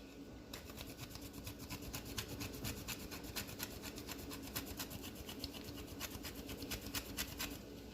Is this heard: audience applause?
no